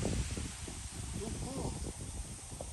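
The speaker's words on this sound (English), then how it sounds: "You hear the wind, guys? It's so windy." Wind blows on a cold morning outdoors, making a continuous broad rushing hiss with a low buffeting rumble that stays steady throughout, while a voice faintly murmurs underneath.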